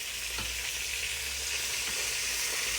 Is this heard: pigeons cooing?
no